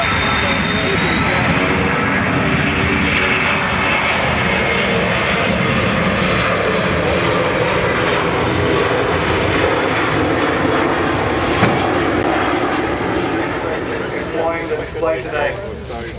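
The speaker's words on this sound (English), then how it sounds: "Tim will now call for go-around power and fly the aircraft away from the airfield." Boeing E-3 Sentry aircraft at an airshow display applying go-around power and flying away from the airfield, a loud steady roar of jet engines that holds and then begins to fade; a commentator's voice runs over part of it.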